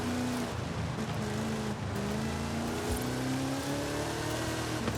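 Engine of the 2020 Hot Wheels Bone Shaker monster truck in the racing video game Forza Horizon 5, a steady loud drone with a slowly rising pitch as it accelerates, continuous throughout with no talking.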